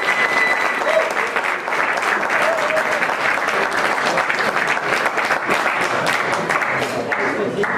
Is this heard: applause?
yes